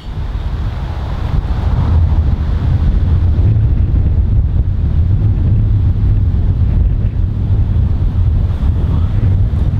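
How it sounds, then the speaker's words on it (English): Strong wind buffets the microphone on an open golf course, a steady loud low roar with gusting rumble filling the whole stretch, no voices. "considering how strong the wind is"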